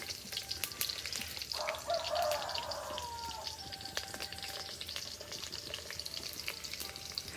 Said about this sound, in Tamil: அடுத்த கட்டமாக வெங்காயம் போட்டாச்சுங்க